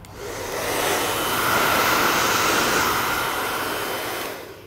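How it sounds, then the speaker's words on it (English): A handheld blow dryer drying damp, saturated hair during a salon styling session, a steady close whooshing roar that swells slightly and holds for several seconds before cutting off, with no talking. "And I'm going to use the blow dryer."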